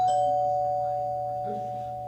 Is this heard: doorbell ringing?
yes